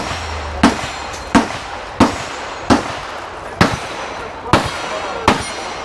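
Seven loud rifle shots from a rifle fitted with a large muzzle brake ring out at an outdoor shooting range, evenly spaced about a second apart, each a sharp crack with a short ringing tail, with no talking.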